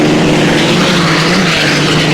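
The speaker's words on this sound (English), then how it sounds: "You'll hear the tremendous roar as we are very close to the boats as they come down for the start." Racing hydroplane boats roar past close by at the start of a 1983 regatta in Miami, Florida, a loud continuous engine drone filling the whole moment.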